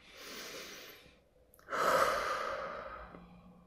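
Slow deep breathing during a guided meditation, the belly inflating: a soft airy inhale, a brief pause, then a longer, louder exhale, close and intimate with no talking.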